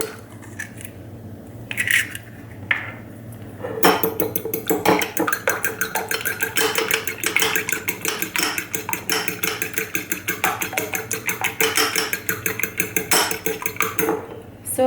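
An egg beaten briskly in a bowl, with a fork or whisk clicking in a fast steady rhythm against the sides, close and fairly loud, continuing for about ten seconds after a few scattered knocks.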